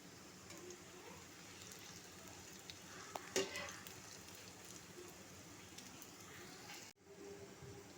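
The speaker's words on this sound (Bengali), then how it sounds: "এরপর প্যানে সাদা তেল গরম করে লোটে মাছের ফিশ ফ্রাইগুলো ভেজে নিতে হবে।" Lote fish fry pieces frying in hot white oil in a pan, a faint, even sizzling hiss like light rain with one small clink, then a brief cut before it resumes.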